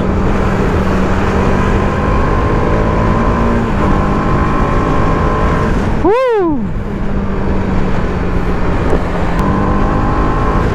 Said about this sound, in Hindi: आप सिर्फ और सिर्फ बाइक का एग्जॉस्ट ही सुनते रहो।